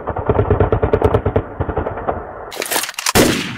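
Rapid machine-gun bursts from a Garry's Mod Left 4 Dead parody, a dense rattling stream of shots for about two seconds, then a pause broken by a few sharp cracks and a loud final blast.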